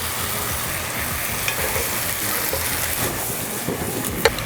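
Pufferfish bulgogi stir-fries with bean sprouts and water parsley, a steady close sizzle with scraping stirs and a couple of sharp clinks, no talk.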